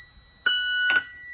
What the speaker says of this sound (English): we're going to need to hear the audible and visual alarms for the air brakes.